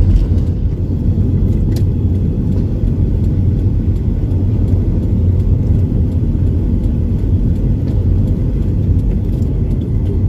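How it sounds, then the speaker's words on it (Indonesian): Steady loud rumble of vehicles, including trucks carrying crude palm oil, crossing the Pawan bridge, a continuous close traffic roar with no talking. "Jadi banyak sekali kendaraan yang mengangkut CPO."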